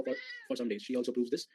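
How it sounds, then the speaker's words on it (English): A pet cat gives a drawn-out meow at close range, then someone speaks in a lecture-style voice over the remaining moments. "please excuse my cat's presence"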